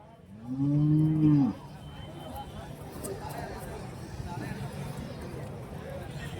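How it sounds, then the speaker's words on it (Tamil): A cow moos loudly and close at a cattle market in Karimangalam, Dharmapuri district, one long low call, followed by a steady murmur of crowd chatter and livestock noise. "கைக்கர மாடு சன மாடுங்க எல்லாமே வந்து இருக்குது"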